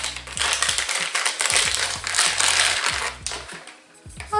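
Crinkling, tearing and rustling as an Amazon package holding a budget microphone is unboxed, with crackling plastic and cardboard scrapes close up, loud and continuous with brief pauses, no talk.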